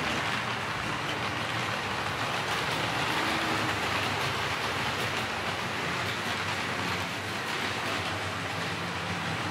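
A Tri-ang Hornby R.357B Brush Type 2 diesel-electric model locomotive in experimental blue livery gives a steady, loud motor hum with a constant rattle of coaches running on track, unbroken and free of talk.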